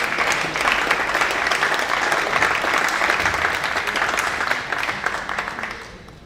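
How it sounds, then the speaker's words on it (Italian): An audience at a Paralympic sports gala claps for honoree Gabriele Meneghel, a full, even round of applause that holds steady and then tapers off toward the end. "l'applauso per Gabriele Meneghel"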